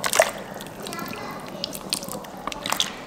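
Vegetable broth poured into an Instant Pot, making a soft, close liquid splash and dribble with a few light drips over a steady kitchen background.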